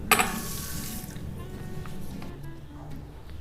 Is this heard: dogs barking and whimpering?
no